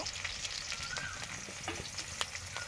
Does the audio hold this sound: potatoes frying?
yes